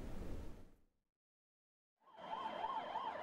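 A brief burst of traffic noise fades to silence, then a wailing ambulance siren rises and holds, cycling steadily at moderate volume.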